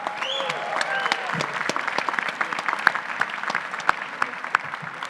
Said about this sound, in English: Let's give a big round of applause for Iowa.